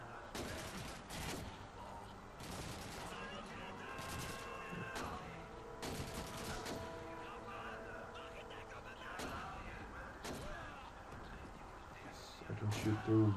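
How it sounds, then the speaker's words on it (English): Bursts of gunfire in the World War II shooter Call of Duty 2, with repeated loud volleys and scattered single shots amid battle noise, and someone talking over the action. "I can shoot through wood this time."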